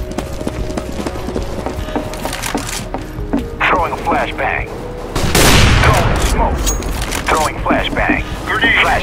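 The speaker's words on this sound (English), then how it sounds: "I'll just shoot him through the ceiling." Counter-Strike: Global Offensive gunfire fired through a ceiling, a fast burst of sharp cracking shots over busy in-game noise, with voices talking over the action.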